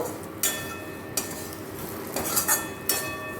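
Spices fry with pre-fried potatoes in a pan for a Bengali-style Katla fish curry. A spatula clinks and scrapes against the pan in a few sharp knocks over a faint, steady sizzle.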